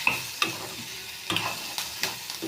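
Sorghum for popcorn mudde fries in a pan with a close, crackling sizzle, punctuated by several scraping stirs and light metallic taps.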